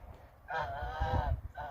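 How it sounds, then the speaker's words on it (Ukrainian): A goose lets out one long, nasal honk close by, then a shorter honk, over low rumbling background noise. "Бачите, гуси які. Що ви кричите?"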